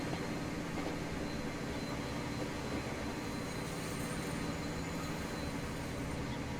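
Freight train rolling past in the Transport Fever 2 railway simulation, a steady low rumble with faint high whine, continuous and even throughout with no talk.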